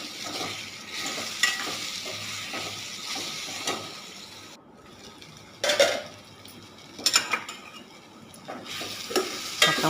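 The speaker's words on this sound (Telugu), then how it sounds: "ములక్కాయ ముక్కలు కూడా వేసేస్తున్నానండి." Drumstick pieces cook in a curry pan with a steady soft sizzle, broken by several sharp scraping stirs and clinks of a utensil against the pan, close and alone without voices.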